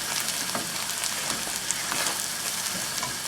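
Spices of salt, coriander powder and red chilli powder being mixed into sizzling mutton masala in a pan, a dense continuous hiss and crackle with faint stirring scrapes, steady and close.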